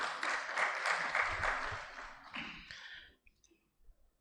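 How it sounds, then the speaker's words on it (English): Audience at a doctors' conference claps in a dense burst of hand claps lasting about three seconds, then thins out into a few scattered claps before stopping. "I think that one also deserves a clap."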